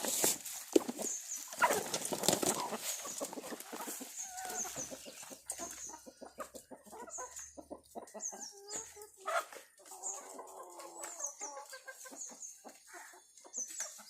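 Chickens clucking and squawking nearby, busy and overlapping at first, then settling into scattered clucks and calls.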